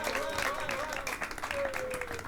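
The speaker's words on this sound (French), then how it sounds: "Un maximum d'applaudissements pour vous-même," Audience applause at a French art-school show, a rough wash of clapping mixed with voices and a drawn-out melodic tone, fairly loud throughout.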